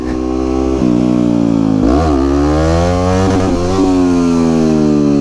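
A supermoto motorcycle's engine revs hard during wheelie practice, holding a high buzzing pitch, dipping sharply and climbing again as the throttle is worked, loud and close throughout.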